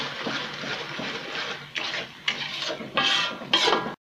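Chili sauce and tomato sauce being stirred together in a pan, with repeated scraping and clinking of a utensil against the metal, steady and close, with louder bursts toward the end and no talking.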